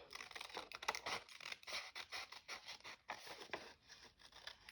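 Paper for a spring journal craft being cut with scissors: a quick, steady run of crisp snips and slicing scrapes, close by and fairly quiet, with no talking.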